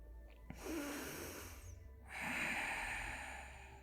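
A deep yoga breath taken during a full-body session, heard as two long, soft airy breaths close to the microphone, the second fuller and louder, with no talking.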